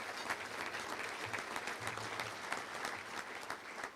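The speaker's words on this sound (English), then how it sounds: "Let's give them a round of applause." An audience at a touchdown club luncheon claps steadily for several seconds, a dense wash of many hands at a moderate distance with a low hum underneath and no talking.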